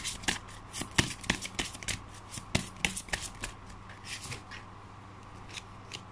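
Tarot cards being shuffled by hand, a run of crisp riffling flutters and soft slaps in an uneven rhythm, close and fairly quiet with no talking.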